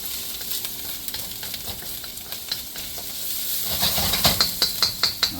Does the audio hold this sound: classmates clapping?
no